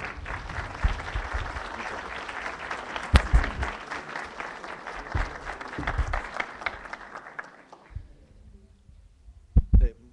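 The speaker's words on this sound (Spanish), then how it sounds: "un aplauso de bienvenida aquí al IMDOSOC" Welcoming applause at the IMDOSOC for Monseñor Sánchez de Toca, a dense round of clapping that thins and fades out, leaving a few scattered claps and bumps near the end.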